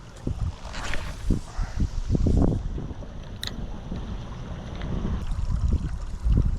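Wind gusting outdoors during a fishing trip, rumbling and buffeting the microphone in uneven bursts, with faint water and boat sounds beneath.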